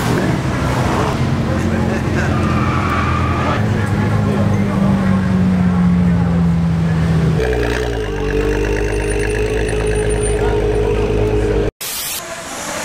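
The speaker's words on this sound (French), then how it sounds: "profiter une bière accompagnée de sonorités d'Aston Martin" Aston Martin cars at the Goodwood Festival of Speed in England, a loud engine drone that shifts pitch midway and carries on steadily, with someone talking over it.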